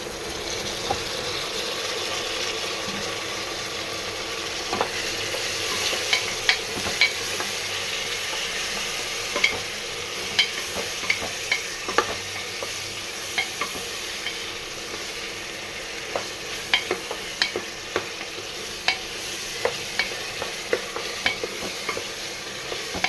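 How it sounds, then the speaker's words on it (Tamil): Golden onions and tomatoes sauté in a pan for a kudal kuzhambu curry, with a constant close sizzle and frequent sharp spatula clicks and scrapes as the mixture is stirred, no voices. "வெங்காயம் நல்லா பொன்னிறமாக வதங்கி வந்துருச்சு பாருங்கள் இப்போ நம்ம தக்காளியை சேர்த்துக்கலாம்"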